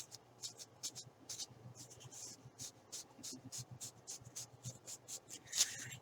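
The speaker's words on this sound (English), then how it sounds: "I'm just going to fold this up along the line." Paper folded along a ruler's edge while making a pamphlet, a quiet run of soft scrapes and rustling taps, close and faint, with no talking.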